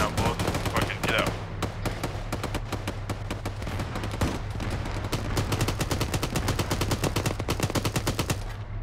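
Video game gunfire rattles almost nonstop in fast, sharp bursts, loud and close throughout, with faint voices mixed underneath.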